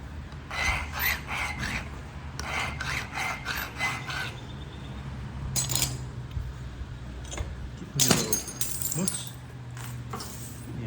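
Stone on stone and a pressure tool work a coral clay flint-knapped point, making bursts of sharp clinking, scraping taps in clusters with pauses, close and moderately loud; faint breath sounds between.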